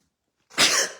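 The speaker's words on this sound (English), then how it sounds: "I'm going to sneeze" A single sudden sneeze from a person at a craft table, sharp and fairly loud after half a second of silence, trailing off into a breathy release.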